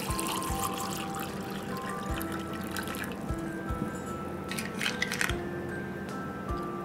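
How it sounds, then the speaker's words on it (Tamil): Water poured into a glass over nannari syrup for a sherbet; a faint, close trickle and splash with small drips, running quietly and steadily throughout. "ஒன்றில் வந்து நான் வந்து தண்ணி விடுறேன்."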